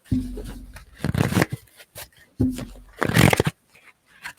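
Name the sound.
shuffling tarot cards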